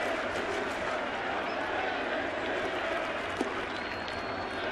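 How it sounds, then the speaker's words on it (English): A large home crowd at a Yankees home opener stands and cheers for Derek Jeter, a dense, sustained roar of applause and shouting that stays loud and even throughout. "the crowd was standing and cheering"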